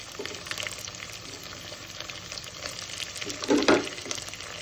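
Onion, green chili and curry leaves fry quietly in oil in a pan, a soft continuous sizzle with a brief louder stir or clatter near the end.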